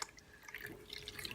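Water is poured into chocolate cake batter in a bowl, a faint, soft trickle and splash lasting a moment.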